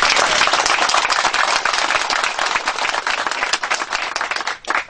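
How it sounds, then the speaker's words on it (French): Loud, dense applause from a gathered crowd at a political press event in Lubumbashi, fast overlapping claps holding steady before thinning slightly near the end. "Ça s'applaudit,"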